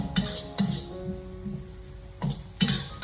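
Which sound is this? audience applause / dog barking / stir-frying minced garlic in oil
stir-frying minced garlic in oil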